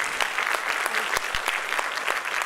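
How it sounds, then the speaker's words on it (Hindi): An audience of students at a training demo applauds in a dense, steady burst of many hands clapping, fairly loud and continuous throughout. "चलो ये दोनों के लिए एडवांस में ताली होनी चाहिए"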